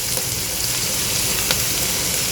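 Cabbage, capsicum and other vegetables sizzling loudly in a hot pan for Chinese vegetable fried rice, a dense continuous close hiss with a faint stir at one point and no talking.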